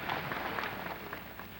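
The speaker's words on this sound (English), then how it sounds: "let's give him a nice round of applause" An audience at the 1996 Miss Ghana pageant applauds steadily in a dense, continuous wash of clapping with no break.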